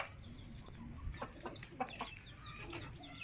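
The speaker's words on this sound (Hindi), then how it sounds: "ये सारी मुर्गियाँ ये मोर वाले रूम में आ चुकी हैं।" Chickens clucking in an indoor bird room shared with a peacock, soft scattered clucks and short calls over a low background hum, faint and close, no talking.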